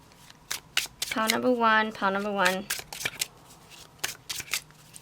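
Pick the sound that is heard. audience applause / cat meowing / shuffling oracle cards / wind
shuffling oracle cards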